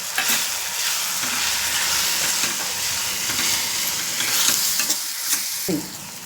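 Garam masala, turmeric and red chili masala fry in a hot pan with oil, giving a loud continuous sizzle close up with repeated scraping stirs and clinks throughout.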